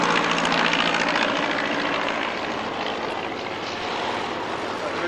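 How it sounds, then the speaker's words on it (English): A Rolls-Royce-engined Bristol Fighter biplane circles overhead at an airshow, its propeller engine giving a steady, broad drone that holds at close range and eases off only slightly as it passes, with no voices. "His escort is still circling a beautiful Rolls-Royce engine Bristol fighter."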